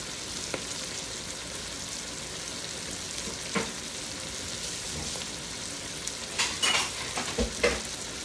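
Chicken leg quarters sautéing with tomatoes, bell peppers and onions in a pan, a steady dense sizzle with utensil scrapes and clinks from stirring toward the end, close and moderately loud.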